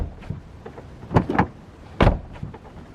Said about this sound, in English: The windows in this car are also frameless, and drop down a little to clear the door frame upon opening the door.